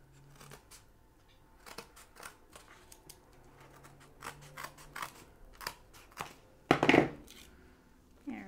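Scissors trim the edge of a junk journal cover: scattered crisp snips and light paper rustles up close, ending in one louder, longer cut, with no voices.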